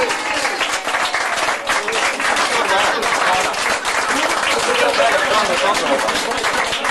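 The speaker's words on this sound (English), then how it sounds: "Give the gentleman a round of applause." Audience at a British stage hypnosis comedy show applauding steadily and loudly throughout, dense rapid clapping with some crowd voices mixed in.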